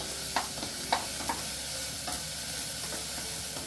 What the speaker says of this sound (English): So while my onions are cooking